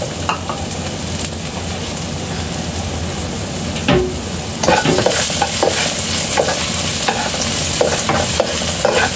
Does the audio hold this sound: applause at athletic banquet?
no